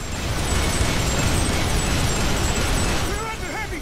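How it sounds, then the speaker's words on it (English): Enemy bombardment in the video game Earth Defense Force 5 rumbles as a continuous, loud wash of explosions and heavy fire, with dense low booming throughout and faint in-game chatter near the end. "Enemies bombarding us!"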